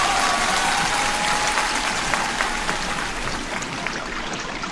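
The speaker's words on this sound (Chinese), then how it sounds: "我觉得可以用掌声给他加一加油了。" Studio audience applause on a TV quiz show, a dense even wash of clapping that carries through and fades slightly toward the end.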